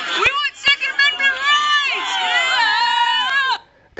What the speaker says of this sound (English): People are booing him